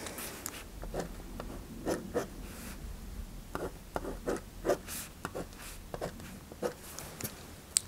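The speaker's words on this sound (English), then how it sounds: "I'm going to draw an image here" A pen scratches across paper in short strokes and taps, drawing a cube-like image during a neurological examination. The sound is close and soft with a steady irregular rhythm.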